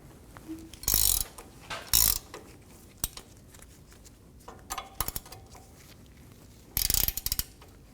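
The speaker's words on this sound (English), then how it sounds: "Using a 21mm socket or wrench, we're going to loosen the nut for the shock." Ratchet clicks from a 21mm socket wrench loosening the rear shock nut on a 2019-2025 Ram 2500, heard in several short bursts of rapid ratcheting with quiet gaps and small metallic knocks between, close and clear.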